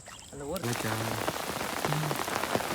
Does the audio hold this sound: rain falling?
yes